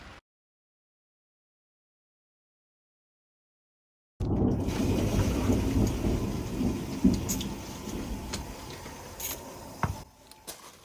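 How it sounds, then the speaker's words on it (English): After several seconds of silence, a steady wash of heavy rain begins with low rumbling thunder beneath it, continuing at a fairly even level. "That's the thunder, that's what we're dealing with."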